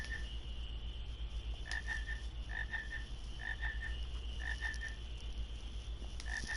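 Frog croaks from Final Fantasy IX come in rhythmic bursts of two or three chirping calls, repeating every second or so above a constant low background hum, with no speech.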